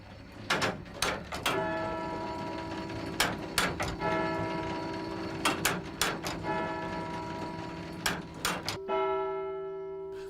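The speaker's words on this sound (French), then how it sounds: "C'est un gros marteau de 10 kilos qui tape sur la grosse cloche" A 10 kg hammer strikes a large church bell in a clock tower, giving a series of loud, ringing strikes with long sustained tones, separated by quieter mechanical ticking and clanking from the striking mechanism.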